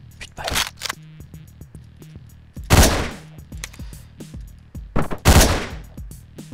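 Gunfire in Hotline Miami comes as two loud bursts of rapid shots a couple of seconds apart, each a crisp cluster of cracks, with quiet gaps and faint clicks between them.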